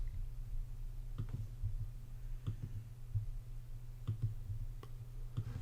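Mouse clicks while bias frames load in Astro Pixel Processor: a few soft, spaced clicks over a low, steady electrical hum.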